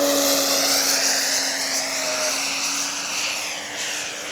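Radio-controlled Legend Hobby Skyraider model plane flying at about two-thirds throttle, its engine a steady, fairly loud drone with a constant tone that eases slightly toward the end, no voices over it.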